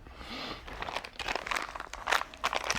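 Crinkling of a thick, durable plastic bag while GoldPlanar GL20 headphones are unboxed, close and fairly quiet, with irregular rustling bursts throughout.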